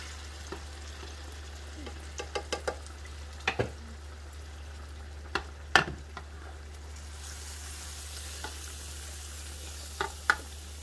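Ikpan Coco, a Nigerian cocoyam dish, cooks in a pot on the stove with a low steady simmering hiss and a steady hum underneath, broken by occasional soft clinks and taps.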